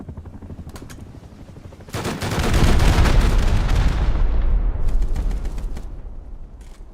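Loud rocket blasts and gunfire in a video game: a few scattered shots, then a heavy, rumbling explosion that swells and lingers for several seconds before more sharp shots crackle as it fades.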